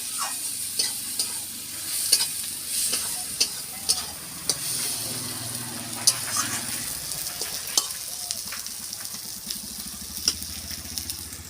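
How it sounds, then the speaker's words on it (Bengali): Masala with chilli powder sizzles and fries in a pan without water for methi chicken, while a spatula stirs and scrapes in repeated sharp strokes over a steady frying hiss. "এবার আমি ভালো করে কষিয়ে নিই। জল দেবো না, জল না দিয়ে আমি কষিয়ে দিই।"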